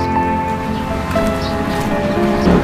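Steady rain falls continuously, a dense, even hiss that stays fairly loud and close throughout with no voices over it.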